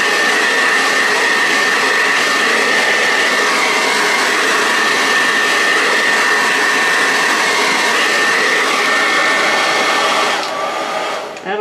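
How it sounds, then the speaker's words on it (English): A hair dryer blows with a loud, steady whoosh for about ten seconds before it is switched off near the end. "I'm going to take my hairdryer."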